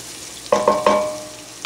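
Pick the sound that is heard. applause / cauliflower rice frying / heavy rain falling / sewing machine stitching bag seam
cauliflower rice frying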